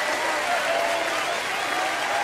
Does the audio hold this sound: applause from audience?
yes